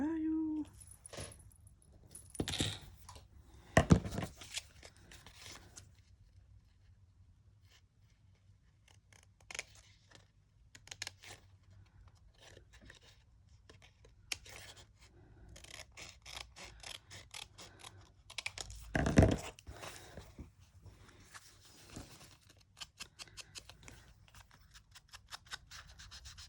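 Scissors snipping paper or film while crafting faux stained glass at a table, a few sharp crisp cuts in brief bursts near the mic, separated by quiet handling and rustling.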